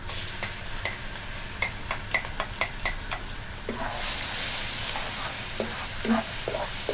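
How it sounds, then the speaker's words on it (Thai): Thai and Chinese garlic fries in a pan over medium-low heat, a constant close sizzle with rapid ticking scrapes of a utensil stirring it. "อ่าจะเจียวกระเทียมก่อนค่ะ"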